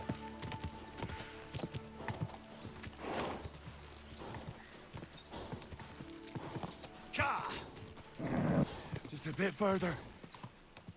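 Hooves of a tiring horse clip-clopping steadily in Kingdom Come Deliverance II, close and rhythmic, with someone talking over them and a few snorts near the end.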